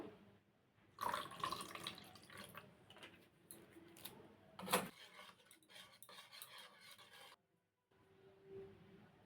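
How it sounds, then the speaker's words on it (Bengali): A spoon stirs chili sauce with a splash of water in a bowl, giving soft clinks, scrapes and wet swishing in bursts, with a short silent gap near the end. "অল্প একটু জল দিয়ে মিশিয়ে নেব"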